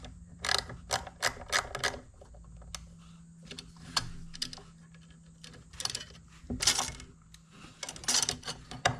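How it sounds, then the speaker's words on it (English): A ratchet clicks in quick bursts while an antique 1923 Fairbanks Morse Z hit-and-miss engine is mounted on a wooden cart, with sharp close rattling clicks separated by short pauses and no talking. "Helps if I turn the ratchet the right way."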